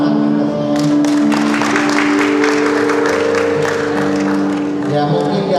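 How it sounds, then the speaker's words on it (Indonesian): A congregation at a wedding blessing service claps together in sustained applause lasting several seconds, with a sustained musical tone or hum running beneath it. "Ya, beri tepuk tangan kita semua."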